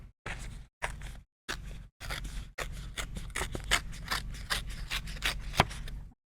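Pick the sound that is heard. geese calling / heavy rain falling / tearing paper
tearing paper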